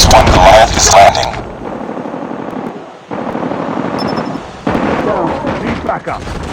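Rapid automatic gunfire rattles loudly in a first-person shooter video game, in dense bursts mixed with game voice callouts and a low aircraft-like rumble.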